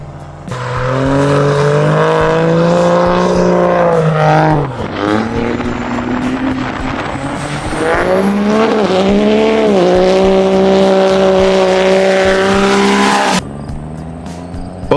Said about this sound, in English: Both machines dig in, chains straining, engines screaming.